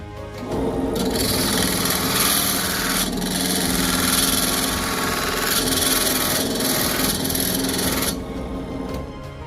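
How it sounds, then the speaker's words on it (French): A wood chisel shaves and smooths a wooden rasp handle, giving a steady, close, continuous rasping scrape that runs for several seconds with slight surges before stopping. "Je vais reprendre ce ciseau à bois là. Et on est reparti."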